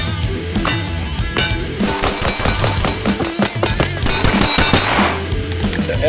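Rapid gunfire from an LWRC A5 rifle and a Staccato XC pistol during a mag dump, a dense, continuous stream of loud sharp shots with ringing metallic overtones.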